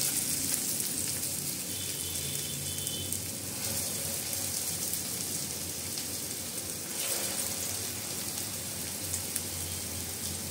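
Stuffed pumpkin bites deep-fry in hot oil, giving a continuous, even, rain-like sizzle that holds steady and fairly quiet throughout.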